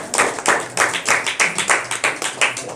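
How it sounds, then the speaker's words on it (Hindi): An audience at a home prayer meeting claps in a steady rhythmic beat, close and loud, about a dozen even claps in a few seconds. "ताली लगाएंगे यीशु के लिए"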